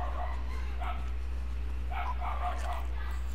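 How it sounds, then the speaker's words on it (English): A dog barks outside in short bursts, somewhat distant and muffled, over a steady low hum, while people talk over it. "Bro, that dog is so loud."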